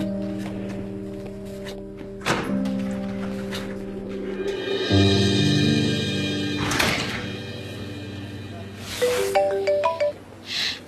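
A mobile phone ringtone plays as a looping electronic melody indoors, moderately loud, with a few thumps and soft movement noises around it.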